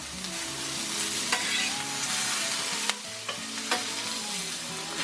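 Vegetables frying on a hot griddle for a Philly cheesesteak, giving a loud steady sizzle with sharp pops and crackles breaking through, close and continuous.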